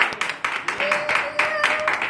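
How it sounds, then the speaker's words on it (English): Church congregation clapping in praise during a sermon, a steady run of quick close claps with voices and a sustained hum under them. "really give him a hand clap of praise"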